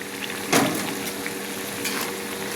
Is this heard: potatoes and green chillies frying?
yes